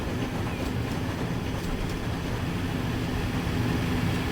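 A train rolls along the tracks in the rail-management game Transport Fever 2, a steady, continuous rumble with a faint clickety-clack rhythm, moderately loud and close, with no voices over it.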